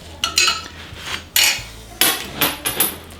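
A screwdriver and a mallet are picked up to tighten a nut on a vintage Leader Marquis bicycle, giving a handful of sharp metallic clinks and knocks spread unevenly over a few seconds, close by.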